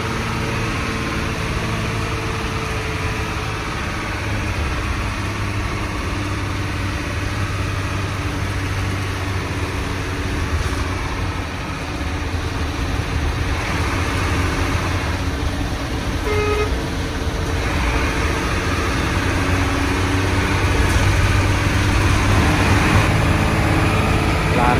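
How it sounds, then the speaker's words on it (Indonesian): Classic Hino non-AC bus with a loud, rumbling exhaust, its engine droning steadily and close throughout with a slight rise near the end, a horn toot briefly audible and faint voices beneath. "sangar, suara mesin yang sangar."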